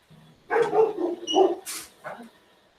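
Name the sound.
dog barking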